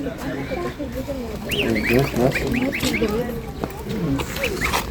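Repeated clucking calls of a chukar partridge and pheasant at the Podilskyi Zoo in Vinnytsia, Ukraine, a series of quick rising notes, heard nearby while people talk in the background.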